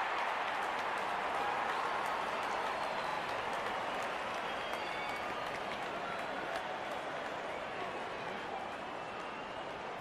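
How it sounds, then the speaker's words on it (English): Broad, steady crowd roar and applause from a cricket stadium in the video game Real Cricket 22, as openers walk out in a Pakistan vs Australia match; continuous and loud, with no talk. "Openers walking in and the crowd cheering."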